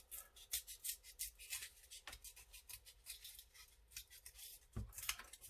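Scissors cut a mask shape out of paper with soft, quick, close snips and rustles in an uneven rhythm, quiet overall.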